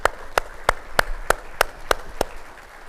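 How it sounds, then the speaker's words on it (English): Eight sharp, evenly spaced claps ring out at a steady rhythm, then stop, sounding like one person clapping near the microphone at a seminar rather than a full crowd. "Let's have a round of applause for the Sanders Group."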